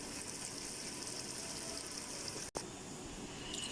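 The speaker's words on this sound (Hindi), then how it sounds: "अब इसमें पानी डाल ली।" Water pours from a jug into a pot of taro root and meat curry, a steady, faint, continuous gush with a brief break near the end.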